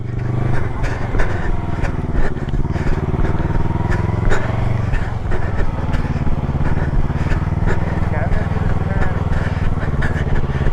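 A motorcycle ridden by a learner idles and putters steadily nearby with a low, rough engine drone, while people talk over the engine noise throughout.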